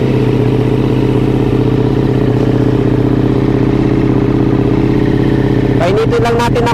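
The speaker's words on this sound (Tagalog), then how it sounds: "Painitin lang natin ng konti yung makina niya." A motorcycle engine idles steadily while warming up after a cold start on a Marilaque ride, a loud, close, even rumble with a brief clattering burst near the end.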